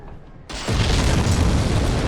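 A sudden explosion bursts out in Dark Souls Remastered, a loud broadband boom that hits partway in and rolls on as a dense, sustained roar to the end, with no talking.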